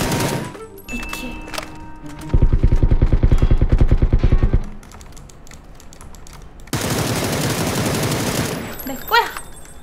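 Gunfire in a shooting video game: sporadic single shots give way to a loud, rapid rattling burst of automatic fire, then a dense stretch of continuous shooting, with players shouting excitedly throughout.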